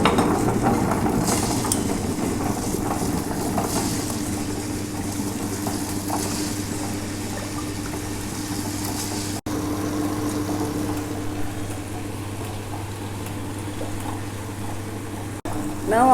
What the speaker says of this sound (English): So we will switch on the grinder.